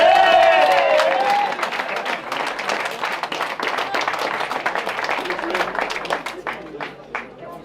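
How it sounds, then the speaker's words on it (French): A crowd at the prize ceremony of a Cévennes legend rally applauds a 306 crew. A voice on the loudspeaker talks at first, then dense clapping swells and thins out into scattered claps near the end. "on peut l'applaudir rien que pour ça"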